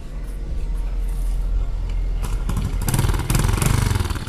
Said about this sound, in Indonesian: Oke, saya coba nyalakan motornya.